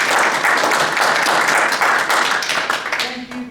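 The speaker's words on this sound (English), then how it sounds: "let's have a big round of applause for our two guest poets" A poetry reading audience applauds the two guest poets with dense, loud clapping that fills the room, then thins out and fades near the end.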